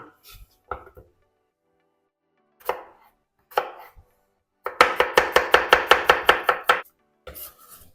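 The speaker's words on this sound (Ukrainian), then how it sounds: "Зараз я буду нарізати редиску." Radishes being chopped with a knife on a board: a few scattered cuts, then a fast run of about ten crisp, even strokes, near and distinct, with no talk.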